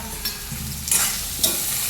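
Tindora and potato curry is tempered in a pan, with a continuous sizzle broken by a few scraping stirs and clanks, close by and moderately loud.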